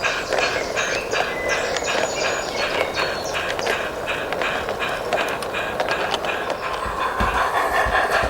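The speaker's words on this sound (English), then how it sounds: "With the road ahead clear, the up sand train could now depart." A sand train on a model railway pulls away, its wheels clicking and clacking steadily over rail joints against a continuous rolling rumble, heard close and moderately loud without voices.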